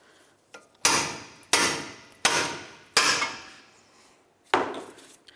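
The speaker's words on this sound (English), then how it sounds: "use a hammer and a pickle fork, and we're going to separate the ball joint from the knuckle" Five heavy metallic hammer blows on a pickle fork separating a lower ball joint from the knuckle of a 1999-2003 Toyota Camry ring out at an uneven rhythm, each a sharp close strike that fades quickly, with one light tap before them.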